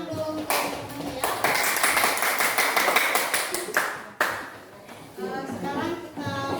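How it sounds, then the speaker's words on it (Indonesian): Classmates in a school classroom clap for a fellow group, a dense burst of close hand claps swelling and easing over several seconds, with brief voices and a sharp tap breaking through near the end. "Tepuk tangan dulu untuk teman-teman ya."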